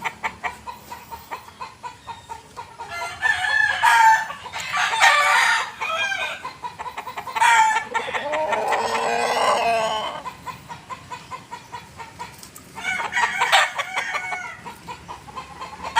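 A large rooster on a farm crows several times at close range, with long drawn-out calls separated by pauses and soft rhythmic background noise.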